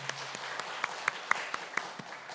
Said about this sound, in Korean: 우리 격려의 박수 한번 해드리겠습니다